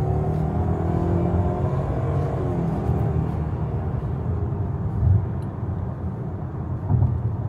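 A 2025 Buick Envision Avenir AWD picks up speed, its engine a steady low rumble that swells slightly with a couple of brief bumps, heard from inside the cabin with no talk.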